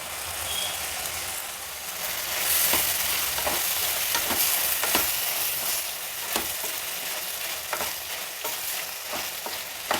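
Potatoes fry in a hot pan under a constant close sizzle, with a spoon scraping and stirring in irregular strokes throughout.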